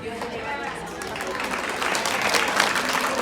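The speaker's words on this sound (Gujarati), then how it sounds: "સોનલબેન શ્રોફ માટે પણ જોરદાર તાલી થઈ જાય" Applause for Sonalben Shroff at a Women's Day celebration builds from a crowd, steady and fairly loud, clapping that grows over a few seconds with chatter mixed in.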